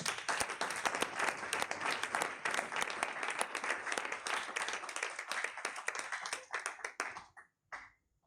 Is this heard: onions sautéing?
no